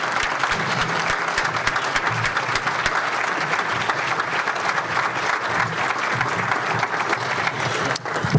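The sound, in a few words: audience applause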